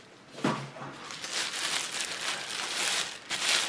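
A styrofoam packaging cube is worked out of a prop replica box, producing close, quiet bursts of squeaky scraping and rustling with a sharper crunch at the start.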